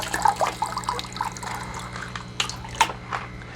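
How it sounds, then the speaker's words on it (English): Filter sponges from a Fluval 307 canister filter squeezed out in a bucket of water, giving close, continuous sloshing, dripping and trickling with small splashy surges. "So all the sponges are getting wringed out pretty good."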